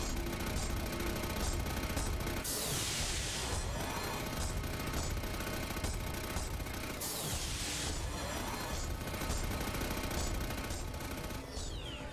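An enemy firing in Mass Effect, with dense mechanical bursts and clanking over steady combat noise, two louder crashing surges around a few seconds apart, and no voice heard.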